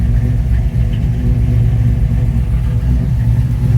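A cold Chevy Nova engine idles at a raised speed, a steady, dense low rumble that holds close and loud throughout with no break.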